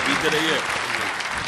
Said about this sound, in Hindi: एक बार हाथ उठाकर जोरदार तालियों से आज के अध्यक्ष को आमंत्रित